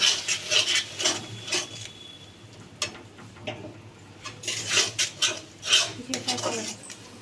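A spiced crab curry being stirred and sautéed in a kadai gives off repeated metallic scrapes and clinks of a spoon against the pan, steady and close, under a faint background hiss.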